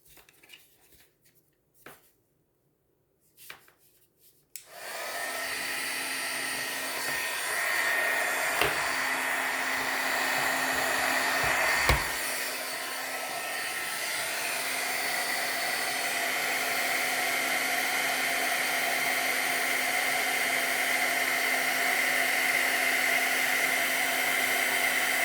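An electric heat tool blows steadily while setting clear embossing powder, its loud, continuous whooshing hum starting after a few seconds of faint handling noises and running without a break to the end.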